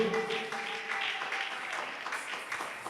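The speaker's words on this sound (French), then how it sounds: "nous pouvons nous asseoir et acclamer pour la gloire de notre Dieu" A congregation applauding in a church, a steady wash of clapping lasting throughout, moderately loud with a few voices faintly mixed in.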